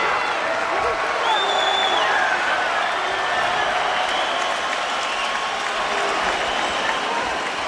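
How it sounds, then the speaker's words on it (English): Boxing arena crowd at Lennox Lewis vs Vitali Klitschko cheering and applauding between rounds; a steady, loud wash of clapping and crowd roar with occasional whistles, unbroken for the whole stretch. "Crowd getting their money's worth."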